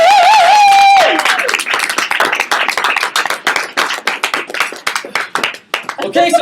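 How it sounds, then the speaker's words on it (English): A comedy audience gives a round of applause for a performer named Jamie Bandera, loud close clapping with whoops, following a brief musical sting, the clapping uneven and bursty, with a voice breaking in near the end. "you got to give him a big round of applause"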